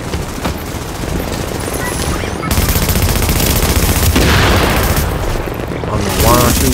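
Gunfire in a shooter video game set in a refugee camp: loud, dense bursts of shots and booms run continuously, with a heavier blast near the end.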